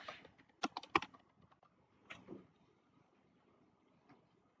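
A computer keyboard clatters with a short burst of quick keystrokes as a name is typed, then a few softer, scattered taps; close and fairly quiet.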